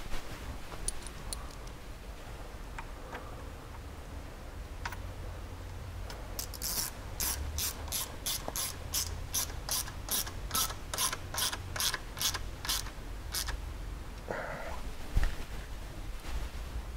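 Self-tapping bolts with lock and cup washers being tightened into UHMW skid plates on a Polaris RZR 4-seater, a rapid ratchet clicking in a steady burst of about a dozen close, crisp clicks with no talking.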